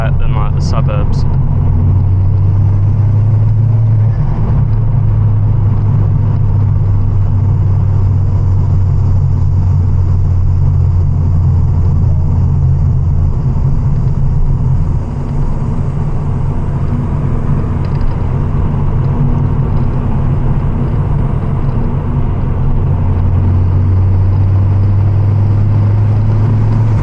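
Ford Focus ST MK2 turbo cruising along a forest road, a loud steady low engine drone heard from the cabin with slight shifts in pitch as the car drives on.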